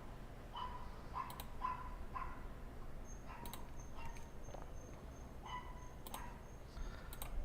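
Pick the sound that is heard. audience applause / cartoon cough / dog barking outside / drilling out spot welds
dog barking outside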